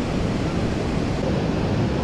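Sea surf at Arambol beach in Goa during the monsoon, a dense continuous roar of waves blended with wind buffeting the microphone, loud and unbroken.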